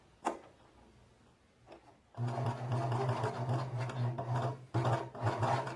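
A sewing machine stitches a seam on tailored trouser fabric. After a sharp click and a quiet stretch, the motor starts and runs in a steady, close whir, then pauses briefly and resumes.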